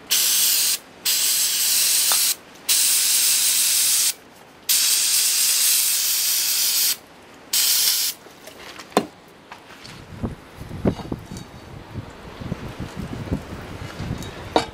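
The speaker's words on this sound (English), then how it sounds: "I just got two cans of brake clean." Brake cleaner sprays from an aerosol can in several loud, sharp hissing bursts separated by short pauses, followed by quieter dripping and rustling as a car part on a 1991 Jetta TD is cleaned.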